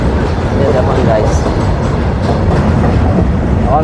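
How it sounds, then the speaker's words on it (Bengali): The Kolkata–Sairang Express pulls away from a station, heard from on board as a loud, continuous rolling rumble with a faint rhythmic clatter of wheels over rail joints. "এখন ছাড়িয়েছে আমরা ট্রেন।"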